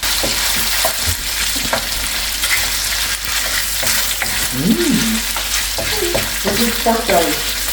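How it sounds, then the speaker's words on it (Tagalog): Pork belly slices fry in a pan as their fat renders out until golden brown, giving a loud, dense, continuous sizzle. Faint voices murmur underneath near the end. "sinunod ko naman itong slice ng pork belly at pinalabas ko lang yung mantika niya hanggang sa naging golden brown siya"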